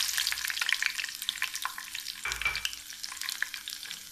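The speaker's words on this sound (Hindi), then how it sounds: "अब हम इसमें डाल देते हैं ये लाल वाली मिर्चें।" Red chillies frying in hot oil with browned garlic for a Hyderabadi khatti dal tempering, a steady crackling sizzle with bright popping spatters, close and continuous with no voices.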